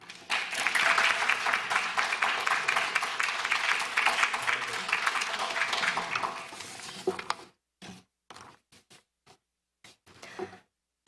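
A crowd at a university research pitch competition applauds its winners and presenters, loud sustained clapping that fades out, followed by a few scattered isolated claps before silence.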